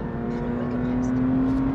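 A car on the Bilster Berg race track accelerating out of a corner, a loud, steady engine drone that holds a single sustained pitch and stays close throughout.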